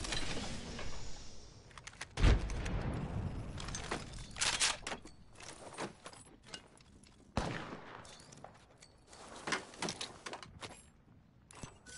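A frag grenade is thrown and explodes in Apex Legends, a sharp loud blast standing out among clicking game mechanisms, footsteps and scattered gunfire, with rapid keyboard-like tapping around it.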